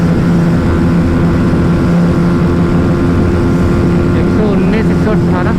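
A Bajaj Pulsar NS160 motorcycle screams at high revs during a drag race against a TVS Apache 160 2V, a loud, continuous buzzing engine drone with wind rush, bouncing against the rev limiter.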